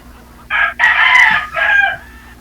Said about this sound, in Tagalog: May tumitilaok dyan.